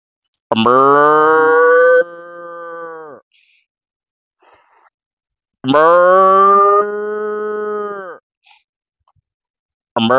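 A man imitates a cow calf mooing, giving two long, loud, nasal moos that each trail off into a lower held tone, separated by a short pause, with a third call starting at the very end.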